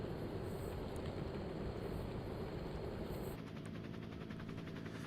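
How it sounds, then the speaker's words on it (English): A helicopter thrums high overhead above a jungle course during a race, a continuous dense rotor roar that stays loud throughout and shifts in tone near the end. "our helicopter just up above"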